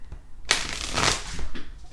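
Tarot cards are shuffled in a quick burst of papery riffling and slapping that lasts about a second, close and moderately loud, with no talking.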